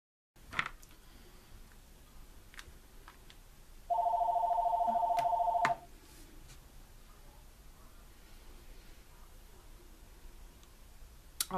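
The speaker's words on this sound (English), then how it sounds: "Oh, okay. Stop ringing." A telephone rings once in a short, bright, buzzy burst of about two seconds midway, set against a quiet indoor room with faint scattered clicks and no talking.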